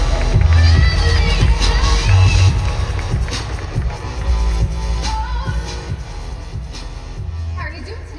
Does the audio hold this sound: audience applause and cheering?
yes